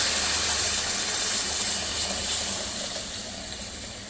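Water poured into a hot pan of sooji halwa hisses and sizzles with a bright, steamy rush that starts loud and gradually eases off over several seconds, with no talking.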